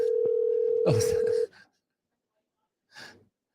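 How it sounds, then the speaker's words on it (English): A single steady electronic phone tone sounds for about a second and a half, then cuts off abruptly; a brief voice breaks in over it, and another short vocal sound follows later. "Phone, it's ringing."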